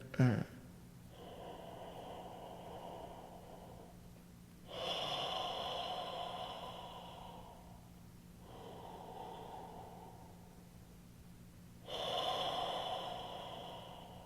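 Deep, relaxed breaths taken in preparation for tuba playing, three long airy inhale-exhale swells spaced a few seconds apart, close and soft, with a brief sharp sniff at the start and no talking.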